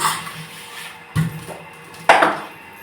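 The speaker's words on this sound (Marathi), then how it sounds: "प्यायच्या पाण्याची भांडी घासायला लागली अगोदर हांडे घासून घेते" Metal drinking-water pots being scrubbed, heard as two distinct clanking knocks around the middle and near the end over a soft background of scraping and handling, with no talking.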